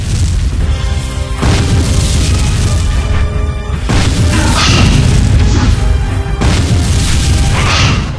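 Grenades detonate in the Zodiac Grenade video game as a few heavy, loud booms that burst out over a dense, continuous wash of game sound and music.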